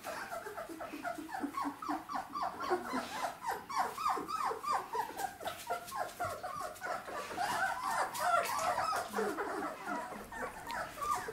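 Sixteen-day-old Czechoslovakian wolfdog puppies whimper, yip and growl almost without a break, a close, busy overlapping chorus of small voices.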